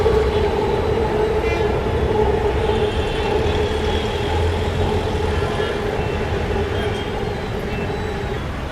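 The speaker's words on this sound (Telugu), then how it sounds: "ఇక్కడ మెట్రో కూడా వస్తుంది పైన." A Hyderabad metro train passes overhead at the Uppal skywalk, a loud, sustained rumble with a steady tonal whine that lingers for several seconds over city traffic noise.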